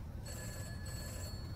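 A telephone bell trills in the video game Summer 58, a brief sustained metallic ring that sits steady against a low background rumble.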